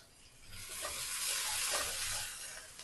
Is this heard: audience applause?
no